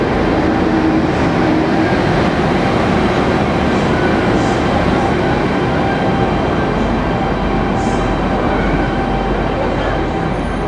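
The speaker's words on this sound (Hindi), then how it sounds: "ये रही अपनी ट्रेन, इटारसी साइड का वेब 7 लगा हुआ है" Amrawati Express passenger train hauled by a WAP-7 electric locomotive, heard as a loud, continuous rumble of rolling wheels and rail noise up close, steady for the whole stretch with a few faint squeals.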